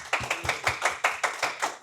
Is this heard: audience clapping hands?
yes